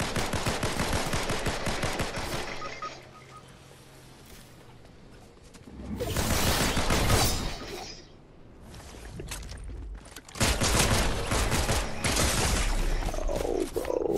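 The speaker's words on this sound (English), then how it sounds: "Somebody above there, shooting down." Gunfire coming from above in a Fortnite zero-build match: repeated loud bursts of shots alternate with quieter gaps, including a rapid volley near the end.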